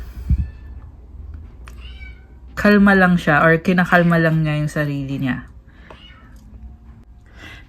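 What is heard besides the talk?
pet cat meowing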